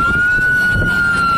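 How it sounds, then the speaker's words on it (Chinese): Fire truck sirens wail steadily as the engines arrive at a highway crash where a chemical tanker carrying hydrochloric acid overturned; a single sustained, loud siren tone holds over road rumble throughout, with no talk. "消防车陆续抵达"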